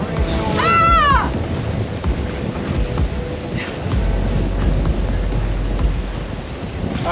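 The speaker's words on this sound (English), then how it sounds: "It's a gusty one today, people." Gusty wind buffets the microphone with a steady low roar while waves wash around a sailboat in high wind and rain; a brief vocal whoop rises early on.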